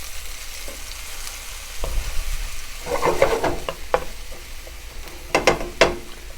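Sofrito being stirred into about 2.5 pounds of meat in a pan for pastelon: sizzling under loud, irregular scraping and stirring strokes, with a few sharper clacks near the end.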